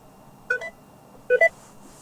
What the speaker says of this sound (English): Now that beep, that's going to annoy a lot of people in the testing center